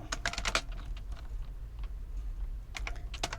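Keys clatter on a computer keyboard as the O and Tab keys are pressed, with quick close bursts of clicks at the start and end and lighter taps between, no talking.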